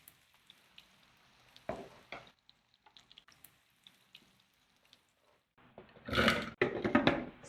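Bacon frying in a small amount of oil in a pan, with soft crackles and pops that build into a loud, dense sizzle near the end, heard alone without voices.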